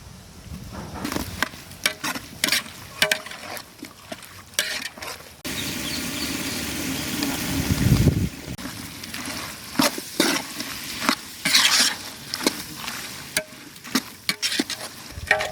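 Chopped tomatoes drop into a hot pan of frying spice pastes and get stirred, giving bursts of loud sizzling and scraping, with one sustained hiss in the middle and no talking.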